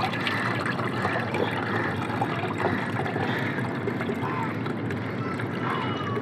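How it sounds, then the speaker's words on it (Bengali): Water soaked with onion peels strained through a sieve, a steady trickling and splashing of liquid running continuously at close range, with no speech over it. "এরপর আপনারা সুন্দর করে ছেঁকে ফেলবেন।"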